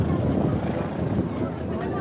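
A helicopter rotor throbs as a steady low drone while it lands near the Kedarnath helipad in the mountains, heard at a distance under a speaking voice.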